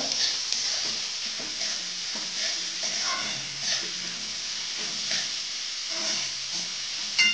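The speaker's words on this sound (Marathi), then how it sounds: "कांदा एका साईडला भाजतोय" Onion for prawn masala fries in a pan with a continuous moderate sizzle and hiss, broken by occasional scraping stirs and soft knocks, no talking.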